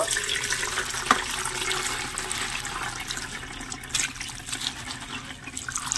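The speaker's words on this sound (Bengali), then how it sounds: "ওর থেকে আরেকটু জল দিয়ে ভালো করে ধুয়ে নেব।" Running tap water splashes steadily over raw mango pieces being washed in a bowl, a continuous close rush of water with one brief louder splash near the start.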